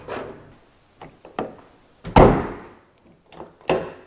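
Door lock actuator in a Wheego car door, taken apart for restoration, cycling between locked and unlocked: a handful of sharp mechanical thunks and clicks spaced irregularly over a few seconds, one clunk clearly louder than the others, close and with no voices.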